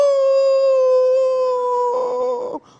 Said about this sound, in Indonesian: Tadi waktu suara azan berkumandang, terdengar suara anjing melolong.